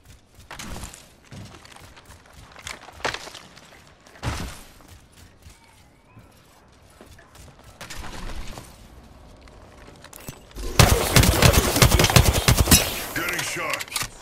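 Gunfire in the Apex Legends video game comes in bursts of rapid automatic shots and single cracks, loud and close, ending in a dense, heavy volley of sustained firing.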